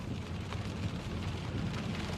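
Rain falls with some wind on a street in Malaga on the Costa del Sol, making a steady, broad hiss with a low rumbling undertone, constant and fairly close, with no voices.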